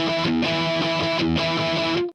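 Electric guitar through an MXR 5150 distortion pedal, played as loud, saturated sustained chords that swell and restart about once a second, with a dense high-gain wash throughout and no voices.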